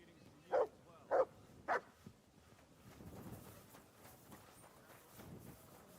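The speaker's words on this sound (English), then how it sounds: "You silly doggy." In the video game Kingdom Come Deliverance 2, a dog barks three times in a quick, evenly spaced series, sharp and fairly close, followed by quiet rustling and faint footsteps.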